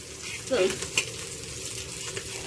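Mudskipper fish seasoned with turmeric and salt frying in a pan, a steady close sizzle with a brief scrape and clatter as the pieces are flipped.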